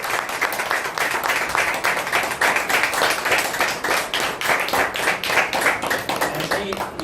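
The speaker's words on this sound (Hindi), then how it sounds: "आज की सक्सेसफुल मीटिंग के लिए एक बार तालियां" Applause from a meeting crowd celebrating a successful gathering, dense steady clapping from many hands lasting the whole stretch, with some voices mixed in.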